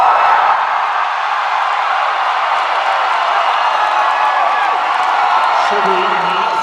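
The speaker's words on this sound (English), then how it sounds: "If you want Kermit the Frog," A convention audience at a comic con screams to vote for Kermit the Frog, a loud sustained crowd roar of many voices that holds steady for several seconds.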